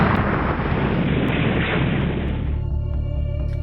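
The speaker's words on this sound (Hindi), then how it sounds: "सुरक्षा बलों ने कार को दबोच लिया और उसे धमाके से उड़ा दिया।" A car blown up by security forces in Pulwama's Ainagund area sets off a loud, sustained blast roar that fills the whole stretch before easing into a rumbling tail.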